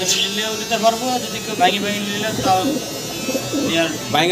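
Low, throaty cooing from several pigeons repeats throughout, mixed with a steady mechanical buzz and people talking over it.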